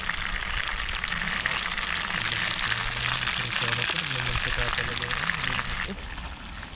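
Loud, steady crackling sizzle of food frying in hot oil, continuous and close, with faint voices underneath.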